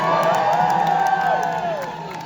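Crowd of several hundred cheering at the EndJewHatred rally on East 87th Street and York Avenue in New York City, a steady roar of whoops and shouts, loud and continuous throughout.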